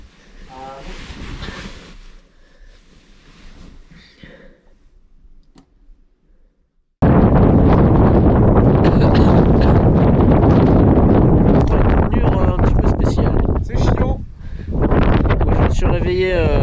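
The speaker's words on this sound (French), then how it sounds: "il y a comme un petit vent rafraîchissant" A light, refreshing breeze blows outdoors, starting faint and low, then turning into a loud, steady rush of wind buffeting the microphone, with voices talking faintly in the first part.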